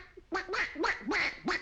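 A man imitating a duck with a series of five nasal quacks in quick, uneven rhythm, close and fairly clear.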